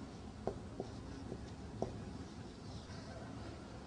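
Chalk or marker strokes on a classroom board during an Arabic lesson, a few sharp taps and short scratches spaced apart over a steady room hum, close and fairly quiet.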